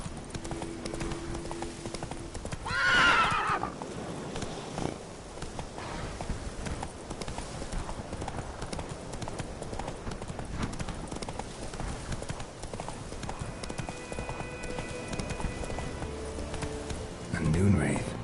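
Roach, Geralt's horse in The Witcher 3, gallops in a steady, continuous run of hoofbeats over game ambience, with a brief voice-like sound near the start.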